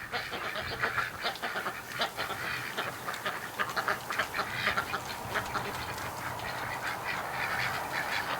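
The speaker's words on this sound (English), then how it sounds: "They're crazy ducks." A flock of breeding ducks quacks and honks nonstop, many birds calling over one another in a dense, close, lively chorus with no talking.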